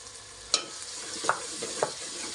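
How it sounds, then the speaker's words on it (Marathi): Onion, tomato and coconut paste stir-fried in oil in a pan, a low continuous sizzle broken by three sharp spoon scrapes and knocks against the pan, close up without any voices. "तेही चांगलं तेल सुटेपर्यंत चांगलं परतून घ्यायचं"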